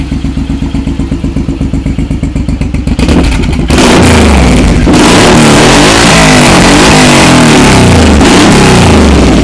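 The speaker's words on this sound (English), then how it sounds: "Extremely loud exhaust. The motor sounds really healthy, no issues." A 2006 Suzuki M109R (VZR1800) motorcycle engine idles with a rapid loping putter, then roars as it is revved hard, its loud exhaust blaring and rising and falling up close.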